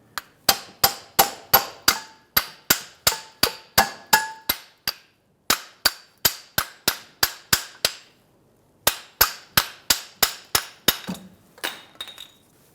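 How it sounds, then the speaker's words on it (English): A hammer strikes a rear brake caliper on a 2013-2020 Nissan Pathfinder to punch out a stuck pad, a rapid run of sharp metallic blows in bursts with short pauses, close and loud. "use a hammer, and hit the caliper this way"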